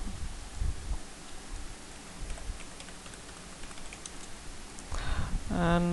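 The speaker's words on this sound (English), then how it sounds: "I'll type in jquery" A computer keyboard typed on, giving a run of faint, rapid, close clicks under a steady background hiss; a voice starts briefly near the end.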